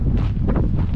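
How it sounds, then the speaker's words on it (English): Wind blows hard at cabins in Whyalla, South Australia, a loud, low, buffeting rumble battering the microphone continuously through the brief moment. "It's a bit of a windy day."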